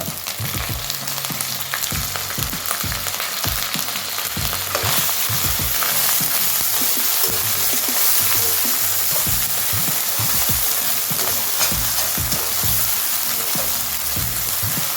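Tomato frying in a pan for a prawn and spinach curry, a loud steady sizzle throughout with frequent thuds and scrapes of stirring close by.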